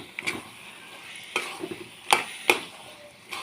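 Ground cumin and coriander stirred by hand into an olive pickle, heard as a few separate scraping, clacking strokes of a spoon in a bowl against a quiet background, with no one talking.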